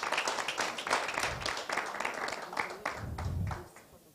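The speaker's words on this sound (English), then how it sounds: "Let's give them a round of applause." Audience applause at a panel event on women in the legal profession and business, a fairly steady patter of many hands clapping at moderate level with some voices mixed in.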